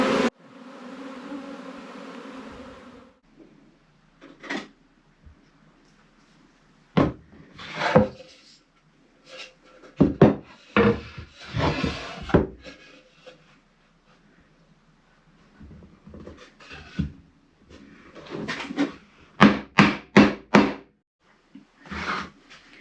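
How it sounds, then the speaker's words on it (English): Wooden parts of a beehive brood box are put together with irregular bursts of sharp knocks, taps and scraping, close and loud, separated by quiet gaps, with a short buzzing-like tone at the start. "So I'm assembling the brood box for the hive."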